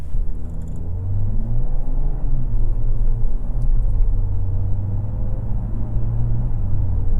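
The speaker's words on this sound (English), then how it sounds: "The auto start stop is just seamless." A 2024 Mercedes GLE53 AMG with a 48-volt mild hybrid and auto start-stop gives a loud, steady low engine rumble that rises and falls slightly, heard alone without talk.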